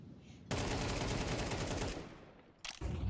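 Rapid close gunfire from an AK and MP9 in a competitive Counter-Strike match, a dense burst lasting about one and a half seconds, then a short second volley after a brief pause.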